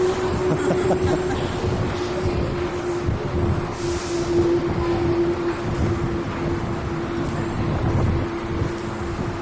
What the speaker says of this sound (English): Amy, you excited about riding the subway?